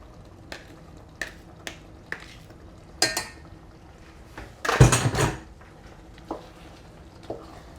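Cooked pasta is tipped into a thickened sauce in a pan and stirred, with scattered clinks and scrapes of a utensil and a brief, louder burst of wet mixing and clatter, close and fairly quiet.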